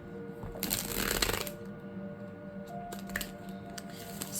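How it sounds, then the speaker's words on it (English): A tarot deck slightly smaller than standard size being riffle shuffled by hand, a dense papery flutter of cards for about a second, then quieter handling sounds and small taps, close and alone. "it's a perfect size to fit and shuffle, and to riffle, shuffle,"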